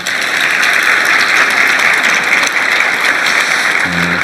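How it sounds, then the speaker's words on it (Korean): Loud, sustained applause from a large audience at a national public report meeting, a dense unbroken roar of clapping that holds steady throughout, with a brief voice emerging at the end. "박수 한번 주십시오."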